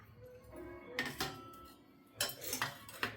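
Whole spices with fennel, coriander and fenugreek dry-roasting in a pan, heard as quiet rattling and clinks of spatula against metal in two short bursts, with near-silent gaps between.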